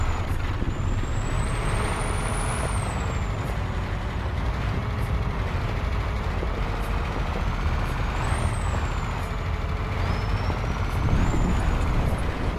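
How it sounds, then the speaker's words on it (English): An American truck in a driving simulator game rumbles steadily with a loud engine drone, while sharp hissing air-brake squeals rise and fall several times over the running motor. "So we're just going to drive around this little truck here."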